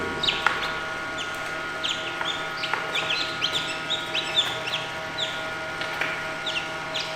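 Chickens on a Portugal farm, among newly hatched chicks, give a busy stream of close, high clucks and peeps in irregular quick bursts throughout, with no talk.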